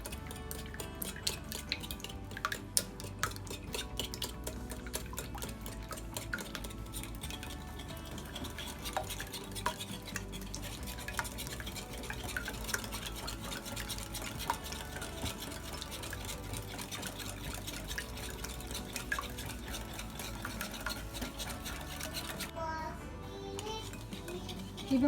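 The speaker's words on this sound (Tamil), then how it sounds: "இப்போ நாங்கள் இந்த முட்டை எல்லாத்தையும் நல்லா கலப்போம்" Eggs whisked in a bowl until foamy for Sri Lankan wattilappam, a continuous fast rhythmic beating with light clicking against the bowl, close and steady throughout with no talking.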